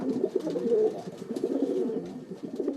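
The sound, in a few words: pigeons cooing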